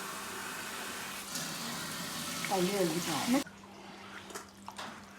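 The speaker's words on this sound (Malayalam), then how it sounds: "അപ്പം ഇനി നമുക്കിതിൽ കുറച്ച് വെള്ളം കൂടി ഒഴിക്കാം" Water is poured into a pot of chicken soup, a gurgling stream whose pitch rises briefly as the vessel fills and then cuts off, with a person talking over it.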